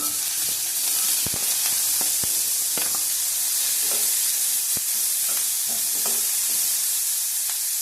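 Chopped onion fries for a chicken momo filling in a steady, loud, dense sizzle, with a few sharp clinks and scrapes of stirring through it and no voices.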